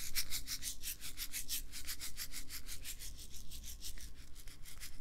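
A handheld shaker played in steady rapid strokes, producing a continuous bright, gritty rattle with a regular pulsing rhythm, close and fairly quiet, with no voices.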